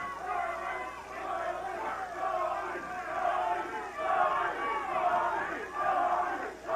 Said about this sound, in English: Now the crowd is peaking up the chant of Tommy, Tommy, Tommy